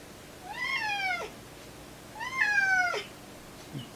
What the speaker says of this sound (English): stepson's cat's arrived. Can you tell?